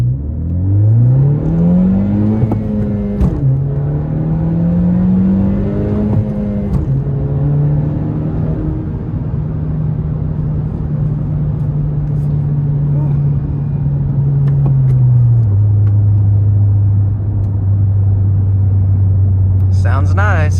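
A 2017 Honda Civic Si Coupe pulls away from a stop, its engine droning and rising in pitch through the gears with clear shift breaks, then settling to a steady cruise hum, loud and close inside the cabin.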